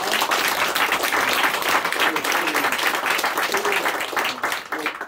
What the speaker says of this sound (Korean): 오늘 우리 축하 박수 한번 드리겠습니다